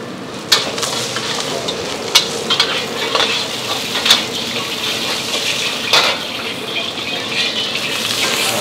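Hard vegetables sizzle and hiss in a hot pan, with a steady frying crackle and several sharp scraping stirs of a utensil at irregular intervals.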